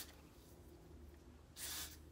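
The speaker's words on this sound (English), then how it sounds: "I'm gonna start by just spraying it" One short hiss of hair blasting spray from a can, quiet and close, applied around the edges of a long curly wig, after a moment of near silence.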